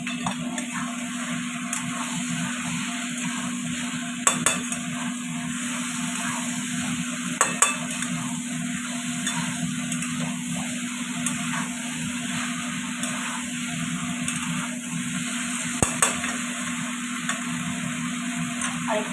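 Fried cauliflower being stirred into a sizzling spice paste in a pan: a steady fry hiss runs throughout, with occasional sharp scrapes and clinks from the spoon against the pan and no talking.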